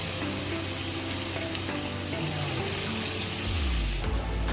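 Steady, close sizzling of idli bondas frying in hot oil, continuous and fairly loud, with no voices.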